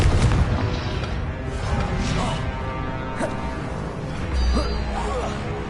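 A Confringo fire spell cast in the Hogwarts Legacy video game bursts amid a busy mix of crackling impacts, whooshes and low booms, with a voice-like layer running through the battle din.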